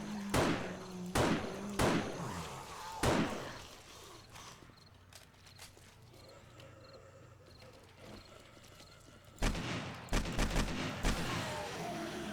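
Sharp bursts of AK-47 gunfire from the video game 7 Days to Die, a few loud separated shots near the start and another cluster near the end, with quieter background sound in between and no talk.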